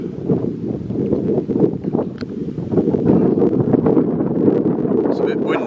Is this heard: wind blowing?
yes